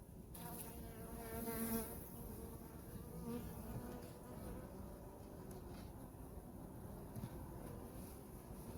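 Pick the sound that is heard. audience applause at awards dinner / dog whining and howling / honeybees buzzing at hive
honeybees buzzing at hive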